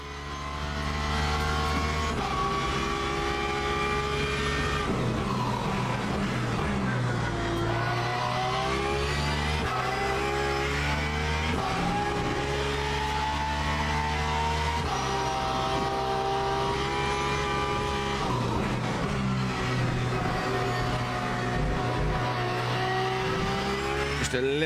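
A Porsche race car in Le Mans Ultimate, its engine droning steadily with rising and falling revs through gear changes, close and continuous throughout.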